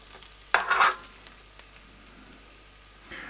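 Bacon going onto a hot grill, a short burst of crackling sizzle followed by a quieter frying hiss, then another rise at the end, no voices.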